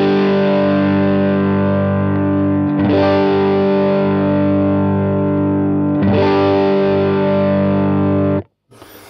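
An electric guitar chord played through a Tube Screamer overdrive pedal rings out loud and distorted, struck three times with long sustains in between, then cut off abruptly near the end.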